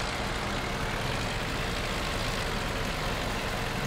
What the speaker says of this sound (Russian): У вас как-то звуки тракторов разные.